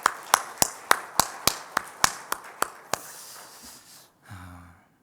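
Congregation in a church service clapping, roughly a dozen crisp claps in a steady rhythm that stop abruptly, followed by a quiet breath and a short low tone.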